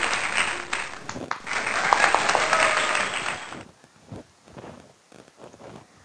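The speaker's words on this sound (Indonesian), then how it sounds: "Tepuk tangan untuk yang 1000 kalinya." Applause from an audience after a folk-tale storytelling, a dense clapping wash for about four seconds that stops abruptly, leaving faint scattered taps and room noise.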